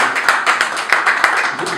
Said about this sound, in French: Est-ce qu'on va applaudir ce projet?